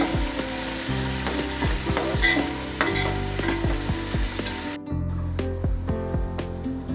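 Sliced onions sizzle in hot oil with cinnamon and cloves in a pan for mushroom biryani, while a spoon stirs and scrapes in steady repeated strokes. The frying hiss stays loud and continuous.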